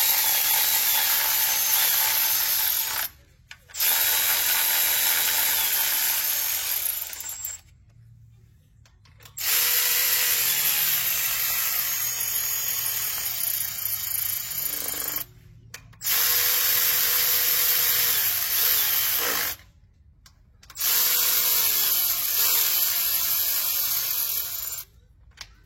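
A power tool whirs in four long bursts with brief stops between them as bolts are run in before torquing, a steady close-up buzz with short silent gaps.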